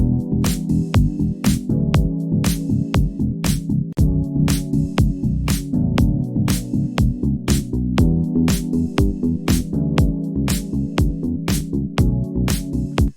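A steady K-pop beat with piano chords and a bass line, kick and hi-hat hits repeating at a regular rhythm, loud and up close.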